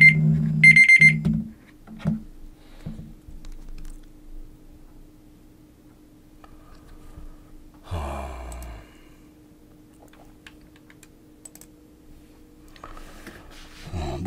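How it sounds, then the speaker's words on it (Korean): A countdown timer alarm goes off at the start of a lecture, ringing in a quick run of bright repeated beeps for about a second before stopping, with quiet room sound and a voice talking further on. "시간을 정해놨더니 알람이 울리네요"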